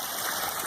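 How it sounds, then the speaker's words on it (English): Backyard waterfall pouring over a stone ledge, a close, steady hiss of rushing, splashing water with no pauses or voices. "I've got the water coming off the top falls, and it wraps around right here."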